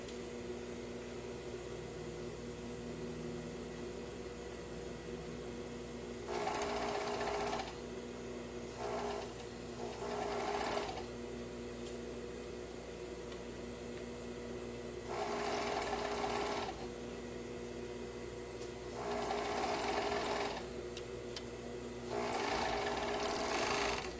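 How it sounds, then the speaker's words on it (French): A sewing machine stitches a sleeve in bursts, whirring for a second or two at a time with pauses between runs, close and clear over a quiet room hum. "Et je m'en vais coudre la manche."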